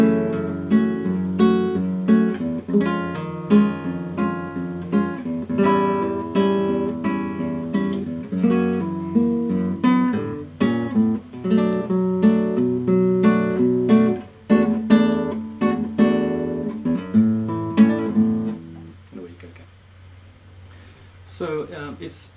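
Solo acoustic guitar playing the chorus of a song, plucked chords over a descending bass line, close and clear, flowing for a long passage before settling into a sustained ending.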